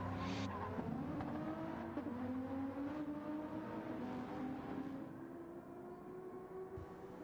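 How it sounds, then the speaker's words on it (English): Race cars lapping the Nürburgring in a 24-hour sim racing game, engine tones droning and rising steadily with faint tire noise, a continuous mechanical whine with no talking. "Just listen to the cars."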